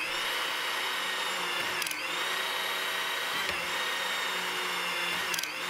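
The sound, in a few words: Hytorc hydraulic torque wrench pump rotating a nut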